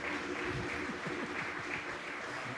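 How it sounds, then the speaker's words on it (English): A crowd applauds at a Pan-African tour talk in London, a steady wash of clapping that holds at moderate loudness for over two seconds and then cuts off abruptly. "Please applaud him strongly."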